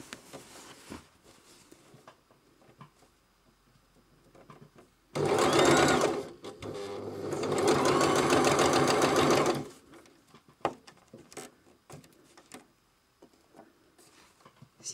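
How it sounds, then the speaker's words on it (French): A domestic sewing machine stitches along the first seam of a reversible jacket in two loud bursts, roughly 5–6 s and 7–9.5 s, with quiet room noise and handling sounds before and after. "L'aiguille sur la première couture et vous piquez dessus."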